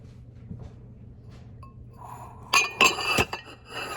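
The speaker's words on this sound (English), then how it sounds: "let me get another spoon" A spoon clinks against a glass bowl or dish during cookie baking, giving a few bright metallic taps close by after a quiet start, followed by fainter rattling.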